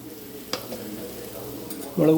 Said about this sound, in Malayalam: നന്നായിട്ടൊന്ന് വഴറ്റിയെടുക്കുക